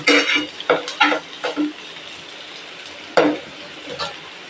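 Ridge gourd fries in a pan with curry leaves, with bursts of stirring and scraping over a soft, steady sizzle, close and moderately loud.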